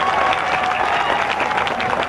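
A concert audience at a live Punjabi performance claps loudly in a dense, steady wash of hands, with a faint sustained voice tone running underneath.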